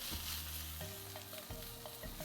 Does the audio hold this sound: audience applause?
no